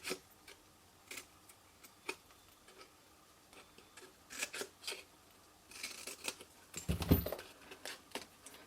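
Scissors trim paper for a hanging Christmas orb decoration, a series of quiet, close snips at an irregular pace, with a denser rustling burst of cuts toward the end.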